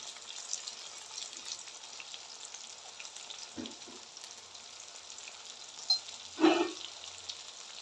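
Brinjal pieces fry softly in hot oil, giving a faint, steady crackling sizzle close by, broken by a couple of brief clatters from a utensil against the pan.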